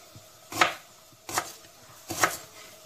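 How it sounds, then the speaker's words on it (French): Three evenly spaced knife chops through an onion on a cutting board while preparing spaghetti bolognese, crisp and close with a soft thud under each cut. "Que je coupe aussi en morceaux"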